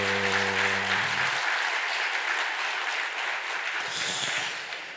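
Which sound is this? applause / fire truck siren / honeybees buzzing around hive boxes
applause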